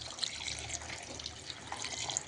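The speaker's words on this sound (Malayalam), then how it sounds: "ഇനി അതിലേക്ക് ഇതുപോലെ ഒരു ഗ്ലാസ്സിൽ വെള്ളം ഒഴിച്ച് കൊടുത്തിട്ടുണ്ട്." A glass of water poured into kappa biryani masala in a pot, giving a soft, faint, continuous splashing trickle with no talking.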